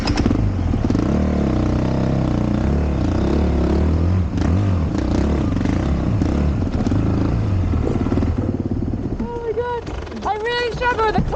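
A Honda CRF 450 RX rally motorcycle engine roars loud and close while ridden on a tight, slippery trail, its pitch rising and falling with the throttle over steady mechanical clatter.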